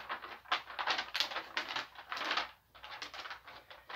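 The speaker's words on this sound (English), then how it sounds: "I found a piece of paper." A piece of paper crinkles and rustles in a hand close up, in soft irregular bursts of dry scratchy noise with short pauses between them.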